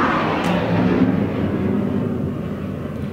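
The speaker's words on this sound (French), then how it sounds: "ça c'est un avion qui vient de passer" An airplane passes overhead as a broad, loud roar that stays fairly constant and slowly fades over a few seconds, with no voices.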